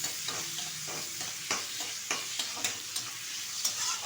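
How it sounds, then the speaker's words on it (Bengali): Shrimp frying lightly in a pan, a steady close sizzle with scattered sharp crackles and pops, a few stirring scrapes, no talk. "হালকা করে চিংড়ি মাছটা ভেজে নেব"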